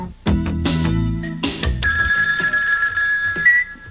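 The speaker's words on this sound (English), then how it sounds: "Yeah, it's phone, I'm almost certain." A telephone rings amid other sounds in a television film segment: loud, busy low tones and bursts at the start, then a steady tonal ring that sustains through the rest of the clip.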